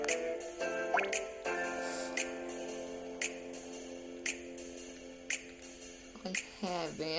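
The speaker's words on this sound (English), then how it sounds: "I'm taking a shower." Shower water in the Bully video game drips in irregular, sharp plinks scattered over several seconds, alongside a sustained tonal, singing-like sound in the background.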